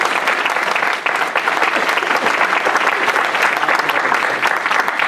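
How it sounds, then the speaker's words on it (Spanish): A church congregation applauds loudly and steadily, a dense close wash of clapping that holds for several seconds with only a brief dip. "Denle un aplauso al Señor."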